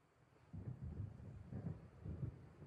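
Low thunder rumbling from an approaching storm in the video game Alan Wake, rolling in several swelling waves over a faint steady background hiss, with no voices.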